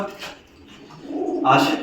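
Pigeons coo close by in a brief, low, burbling call, partly blended with a person talking.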